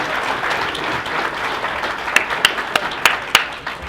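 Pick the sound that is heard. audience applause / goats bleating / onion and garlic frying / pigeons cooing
audience applause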